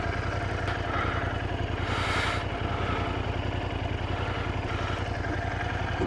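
A 2019 Royal Enfield Interceptor 650 idles steadily, its low, even engine pulse running close and continuous with a faint clatter over it and no speech.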